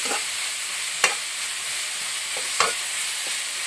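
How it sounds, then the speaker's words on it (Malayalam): Bitter gourd dusted with turmeric powder is stirred in a hot pan with a steady sizzle, while two sharp spoon scrapes against the metal stand out over the frying hiss. "മഞ്ഞൾപ്പൊടി ഇട്ടിട്ട് നന്നായിട്ട് ഇളക്കി കൊടുക്കുക."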